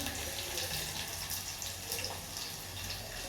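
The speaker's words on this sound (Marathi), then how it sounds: "तांदूळ घेतले तांदूळ धुवून घेते पाणी घालून ठेवले त्याच्यामध्ये" Indrayani rice being washed under a running tap in a kitchen sink, with water splashing in a steady, close stream, faint and alone without talk.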